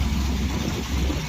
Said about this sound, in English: Al's pulling out his Monte Carlo to wash it up.